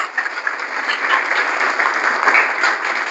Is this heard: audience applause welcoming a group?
yes